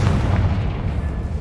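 A Confringo spell explodes in Hogwarts Legacy, a single heavy booming blast that fills the moment and then trails off into a rumbling decay.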